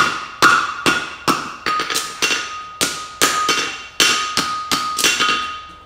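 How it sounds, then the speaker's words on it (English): A blacksmith's hammer strikes a hot steel bar on an anvil, about a dozen sharp ringing blows in an uneven rhythm. Each strike rings on briefly, close and loud. "Again, my hammer hits in the same place."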